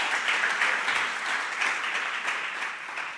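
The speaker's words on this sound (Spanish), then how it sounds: "fuerte el aplauso para nuestra gente de media." A church congregation applauds its media team with steady, dense clapping that holds at an even level from start to finish, with no voices rising above it.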